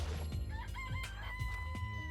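A rooster crows in the Danganronpa video game, a close, clear cock-a-doodle-doo with rising and falling tonal notes over a low steady background.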